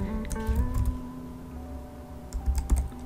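Quick bursts of typing on a computer keyboard, soft close key clicks in short irregular runs with brief pauses, over a faint steady background hum and no speech.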